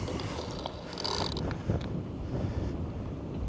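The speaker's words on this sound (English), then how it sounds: "We have got a bit of a side wind." Gusty side wind buffeting the microphone at an outdoor run of a fast, shop-parts 12S RC car, a steady broadband rumble with a brief gust peak, no talking.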